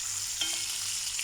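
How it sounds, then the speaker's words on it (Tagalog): Garlic and onion sautéing in hot oil for squid adobo, a steady bright sizzle with a brief stirring scrape partway through, close and alone. "igigisa lang natin yung mga ano natin"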